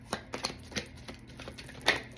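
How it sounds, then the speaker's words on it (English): Tarot cards being shuffled a couple of times at close range, giving soft irregular riffling taps and slaps in short bursts, with no talking. "And usually I shuffle a couple times"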